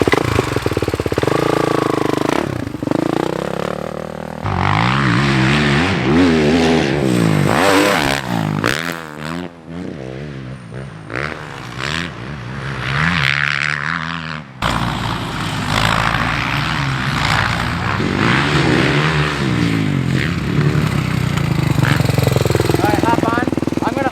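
Motocross motorcycle ridden on a dirt track during suspension testing, its engine revving and changing pitch as it rises and falls near and far, with voices talking over parts of it.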